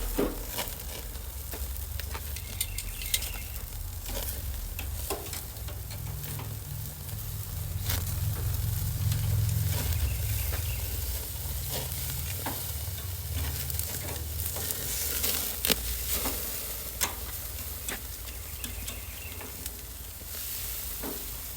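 Pork steaks sizzle steadily on a grill, a continuous crackling hiss with a few sharp clicks and scrapes as they are flipped, fairly close and without talk.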